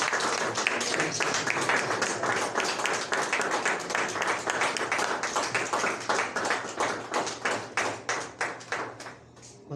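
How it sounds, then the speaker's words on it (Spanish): A church congregation applauds at an evening general service, a dense sustained clapping that stays loud, then thins into fewer, separate claps and fades out near the end. "¿Cuántos le pueden dar un fuerte aplauso al Señor?"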